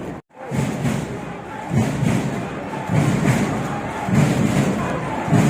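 Football supporters in a Thai stadium at a Buriram match: loud crowd chanting and cheering over a drum thumping at a steady, roughly once-a-second beat, repeating throughout.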